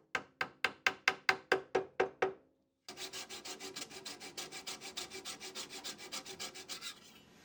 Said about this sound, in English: I sanded everything down smooth